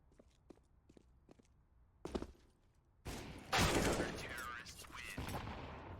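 Counter-Strike: Global Offensive gunfire at a professional esports match, with a few light footsteps, then a sharp shot and a louder burst of firing under an excited commentator's voice.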